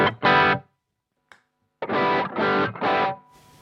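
An electric guitar played through a Boss OS-2 overdrive/distortion pedal rings out in several loud, saturated strummed chords separated by short silences.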